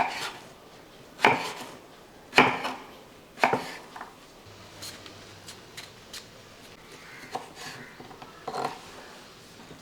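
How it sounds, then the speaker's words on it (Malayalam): A knife chops raw potatoes on a board: a dozen or so sharp, irregular cuts, some louder and some lighter, close by in a quiet kitchen. "ഇതേപോലെ ഒന്ന് അരിഞ്ഞെടുക്കുക"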